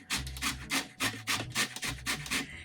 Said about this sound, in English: Then I'm going to add some zest of this beautiful organic orange.